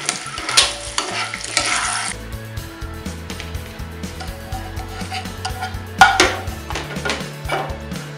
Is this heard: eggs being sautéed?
yes